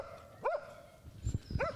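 A stray dog on an Istanbul street gives two short, fairly faint barks about a second apart, with quiet background noise and a few soft thumps between them.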